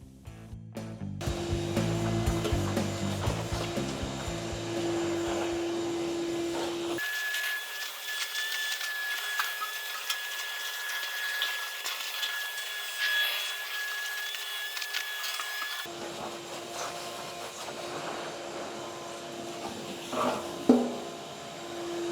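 Sandpaper of 180 grit flattens a surface being prepared for a satin black paint job, a steady, close scratchy sanding that runs continuously with a few changes in pressure and tone and a brief knock near the end.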